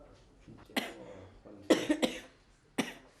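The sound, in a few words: man coughing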